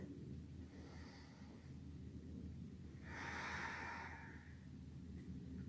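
During a yoga flow, slow, deep breaths pass close and soft through the nose and mouth: a gentle inhale, a pause, then a longer, fuller exhale, with no talking.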